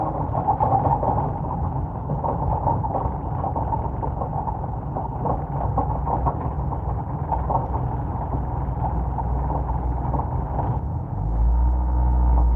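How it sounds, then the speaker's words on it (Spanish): Heavy rain pours with low rumbling thunder, a dense steady roar filling the whole stretch, with a deeper rumble swelling near the end. "¿Cómo llueve, macho?"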